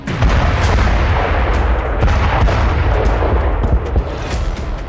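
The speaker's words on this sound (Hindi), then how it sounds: "आर्म्ड व्हीकल की जगह सिर्फ आर्टिलरी का इस्तेमाल कर रही है।" Artillery fire in the Russia-Ukraine war, with troops advancing under smoke cover: a loud, continuous battlefield roar packed with repeated thumping blasts and cracks across the whole stretch, no voices.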